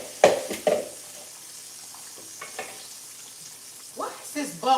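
Broccoli in an old pot bubbling up on the stove, with irregular popping and sizzling bursts close by and a voice briefly near the end.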